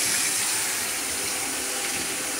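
Water runs from a kitchen faucet in an empty house, a steady close hiss of flow with no pauses and no voices.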